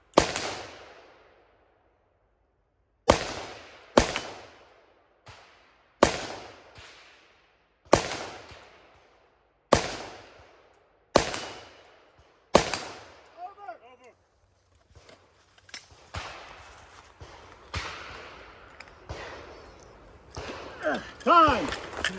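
Rifle gunfire at a shooting match stage: a rapid string of sharp, loud shots in the first half, each ringing out briefly, then quieter handling noise, shuffling and a few distant pops with voices talking toward the end.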